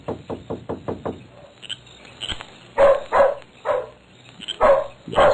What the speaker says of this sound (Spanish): Se alborotó por ahí un perro.